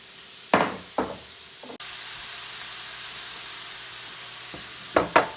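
Mushrooms sauté in olive oil in a pan, a steady hissing sizzle that swells partway through, with a few sharp knocks of a utensil against the pan at the start and end, no talking.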